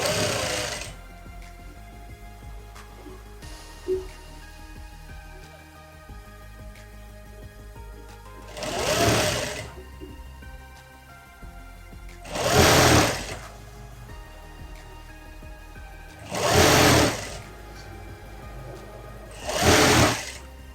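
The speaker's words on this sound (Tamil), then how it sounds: "நம்ம ஃப்ரண்ட் பக்கம் 1 இன்ச்சு எக்ஸ்ட்ரா விட்டதை இப்போ மடக்கி தச்சிடுறேன்" A sewing machine stitches down a folded hem on a skirt-and-shirt garment, running in four short bursts of rapid, loud mechanical chatter separated by quiet pauses with faint handling noises.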